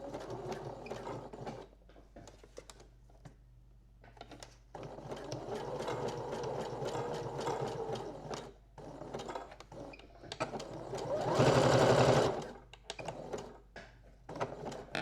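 A sewing machine stitches a dress strap in runs of steady mechanical whirring and needle ticking, pausing and restarting, with one brief louder, faster burst near the end.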